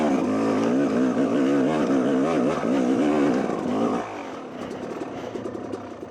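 A Yamaha YZ250 dirt bike lugs slowly uphill in first gear, its engine note wavering loud and close. The engine then eases off to a lower, quieter putter for the last couple of seconds.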